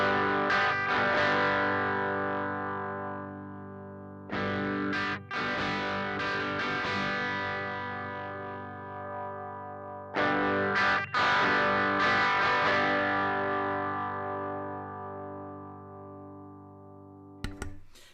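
Distorted electric guitar through an amp with the mids control turned fully up, three loud strummed chords ringing out and slowly decaying, each followed by a few choppy hits, played alone with no talking.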